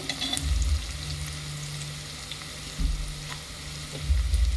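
Sliced onions sizzle steadily in hot oil in a pan for biryani, a close, continuous frying hiss with a few louder bursts as the onions are stirred.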